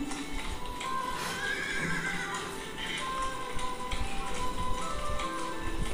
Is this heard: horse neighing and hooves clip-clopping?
yes